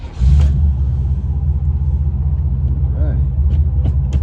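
A Pontiac Grand Prix engine rumbling low and steady from inside the car during a ride, a deep constant drone with a voice speaking briefly over it.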